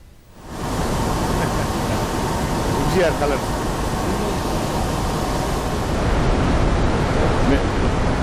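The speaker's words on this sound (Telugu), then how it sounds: "ప్రాజెక్టు ఆరు ఏడు ఎనిమిది పదకొండు నెంబర్ గేట్ల నుంచి నీటిని నాగార్జున సాగర్కు విడుదల చేశారు" Water from the opened Srisailam dam spillway gates rushes toward Nagarjuna Sagar, a loud continuous roar that swells in within the first second and holds steady, with faint voices underneath.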